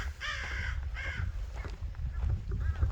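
Crows cawing at a hammock camp in the South Dakota Badlands: a few harsh, repeated caws close by, two strong calls then fainter ones, over steady outdoor wind noise.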